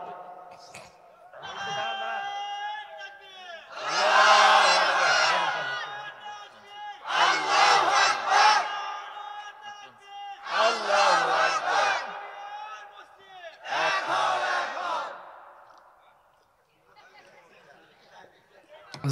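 A sermon crowd shouts the takbir in four loud, roaring bursts separated by short pauses. A single voice leads between them.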